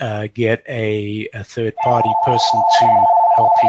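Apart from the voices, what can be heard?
phone ringing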